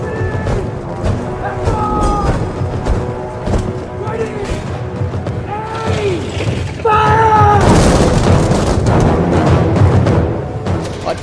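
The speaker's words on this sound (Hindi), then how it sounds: "गोलियों की तड़तड़ाहट सुनकर लोग यहाँ वहाँ भागने लगते हैं" Staged rattle of rifle gunfire from soldiers firing on a crowd at Jallianwala Bagh, with booming reports, mechanical clatter and shattering bursts building to a denser volley near the end, set beneath a narrator's dramatic voice and music.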